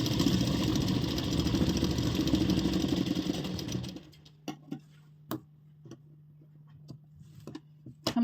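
A sewing machine runs steadily while stitching a seam on a ladies' salwar, then stops and gives way to scattered clicks and small ticks of fabric handling.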